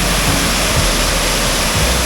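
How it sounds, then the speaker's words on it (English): A waterfall in Glen Douchary on the Cape Wrath Trail, a drop of about 100 feet, roars as a loud, close, continuous wash of rushing water. "This is our waterfall number 1"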